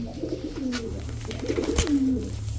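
Pigeons among Budapest, racer, gola, army and giribaz birds at a sale give several low, rounded coos close by, rising and falling in short phrases over a soft background hum, with no talk.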